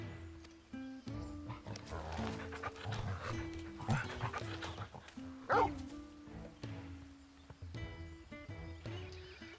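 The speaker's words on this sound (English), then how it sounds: "This is Torgal, a wolf pup raised in the duchy." Wolf pup Torgal in a Final Fantasy video game giving repeated barks and growly vocalizations over a steady game music backdrop, moderately loud with several distinct bursts.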